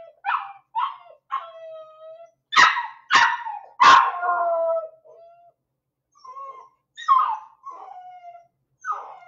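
Barking from a small dog, indoors near a workshop: a series of close, sharp barks and yips in irregular bursts, with a cluster of three loud barks and whining yelps between pauses.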